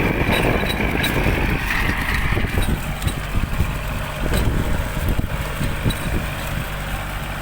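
A Kubota 36 hp tractor pulls a corn seed planter through a rice field, its engine a steady, loud drone close by with some clattering mechanical noise and no speech.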